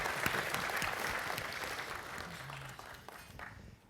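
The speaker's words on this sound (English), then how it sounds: "please just give them another round of applause" Audience applause at a corporate investor event fills the room as steady, moderately distant clapping, gradually thinning toward the end.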